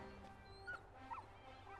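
A puppy whimpers in the video game Final Fantasy 16, giving a few soft, high yips over quiet background game ambience.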